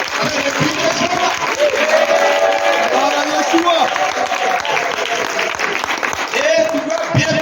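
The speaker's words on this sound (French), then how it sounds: "Acclamons Jésus" A church congregation applauds and cheers steadily throughout, a dense, loud wash of clapping with voices over it.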